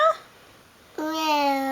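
A small child imitates a cat, a short vocal bit followed by one drawn-out, rising meow, close and clear in a quiet room.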